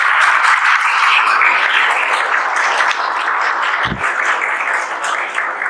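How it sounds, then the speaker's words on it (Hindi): Applause for a student from a coaching class audience, a dense, loud, steady clatter of many hands filling the whole stretch without any talking. "सनत देशमुख के लिए जोरदार ताली बजाएंगे"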